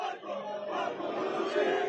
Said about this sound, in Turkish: Taraftarlarımızın tezahüratları eşliğinde